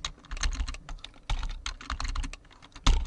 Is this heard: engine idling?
no